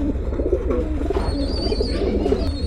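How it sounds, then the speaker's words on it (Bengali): A pair of Teddy pigeons, a Johnsina Teddy and a Salera Teddy, in a highflyer loft coo steadily in low, rolling phrases, up close, with faint higher chirps from other birds behind. "এক জোড়া টেডি কবুতর দেখতে পাচ্ছি।"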